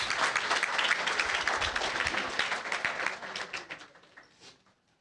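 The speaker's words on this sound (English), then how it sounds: "let's give him another round of applause, please." Sustained applause from a crowd at a retired teachers' association meeting, dense clapping that holds steady and then tapers off to silence near the end.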